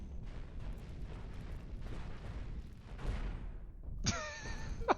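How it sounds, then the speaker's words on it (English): Cannon fire and explosions hit a starship in the space game Cosmoteer, producing continuous rumbling booms and crackling blasts, with a sharper burst near the end. "segments of it caught on fire because of cannons"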